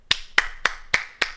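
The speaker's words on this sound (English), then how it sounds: "Station master applauds." A single person claps five times in an even, unhurried rhythm, each crisp clap close and clear over near silence.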